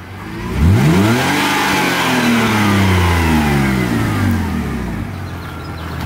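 A BMW 3 Series engine revs hard at a field drifting session, its pitch sweeping up and falling back in loud, continuous waves close by, with no talk over it.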